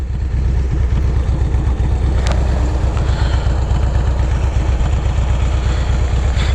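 Harley-Davidson Road King with a Twin Cam 96 engine idling in neutral, a loud, steady, deep rumbling pulse throughout, up close with no talking.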